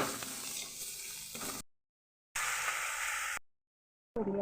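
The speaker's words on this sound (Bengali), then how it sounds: "পেঁয়াজ রসুন আদা সব বাটাই আছে তো সেটা দিয়ে এবার সাঁতলে নেব" Onion, garlic and ginger paste sautés in hot oil with bay leaf, dried red chilli and spices for ghugni. Loud close sizzling and stirring come in bursts separated by abrupt silent gaps.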